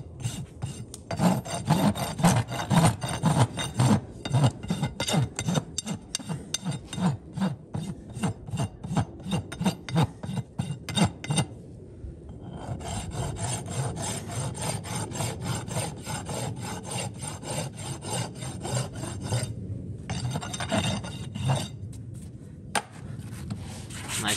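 A farrier's rasp dressing excess hoof wall over the toe of a horseshoe, rapid rhythmic rasping strokes in bursts, close and crisp, with brief pauses between passes and no talking.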